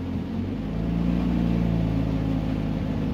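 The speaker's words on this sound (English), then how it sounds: "So I'm gonna hit the accelerator pedal and watch that thing drop." Honda CRX engine with the accelerator pedal pressed, a steady close-up mechanical drone that rises slightly at first and then holds a constant raised pitch.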